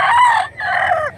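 A rooster crows once, loud and close, a single drawn-out two-part call from a gamecock at a sale in Mantalungon, Cebu.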